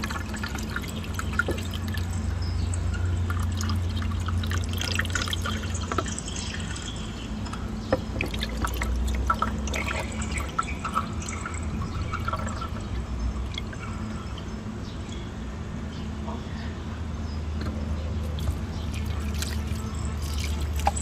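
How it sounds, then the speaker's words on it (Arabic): A small balcony fountain runs continuously, water trickling and dripping in a steady, fairly faint stream with no voices over it. "حطيت في النافوره دي ميه عشان تشتغل"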